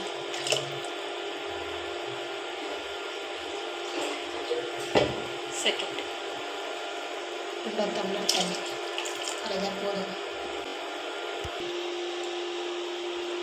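Tap water runs steadily into a pot while a traditional fish curry is being made at home, a continuous splashing stream with a few clinks and soft speech underneath.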